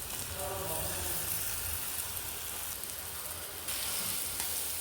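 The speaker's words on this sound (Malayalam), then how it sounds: "പൊരിച്ച ചെമ്മീനുകൾ അതിലേക്ക് ഇടാം." Fried prawns go into a hot pan with turmeric, chili powder and black pepper for a prawn roast, giving a steady, hissing sizzle that shifts slightly as they land and settle.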